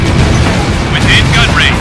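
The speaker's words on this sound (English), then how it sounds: "Damn! Missile away!" A missile launch in the Ace Combat Infinity jet combat game, a loud burst with a crackling rush under continuous engine roar, followed by a few short warbling tone beeps, with a voice shouting over it.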